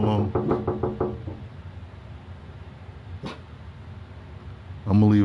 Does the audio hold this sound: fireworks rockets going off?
no